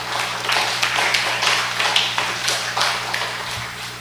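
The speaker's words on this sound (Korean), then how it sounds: "그렇게 친구들한테 박수." A congregation claps together at a Friday prayer meeting in a church, a steady, dense run of applause-like hand claps that keeps going throughout, loud and fairly close.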